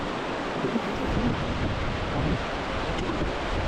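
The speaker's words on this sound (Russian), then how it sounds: "Тут вот поток воды очень сильный поток." Strong river current on the Old Austrian Road in East Kazakhstan roars steadily throughout, a dense broadband churn with gusty low rumble, no voices.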